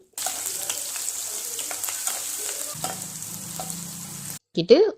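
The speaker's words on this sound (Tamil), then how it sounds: "பூண்டு ஜி ரெண்டையும் லைட்டாக தட்டிட்டு அதே எண்ணெயில் போட்டு வதக்கணும்" Crushed garlic and ginger sizzle and fry in hot oil left from frying squid, a steady close crackle with occasional stirring scrapes, ending in a brief sharp clatter.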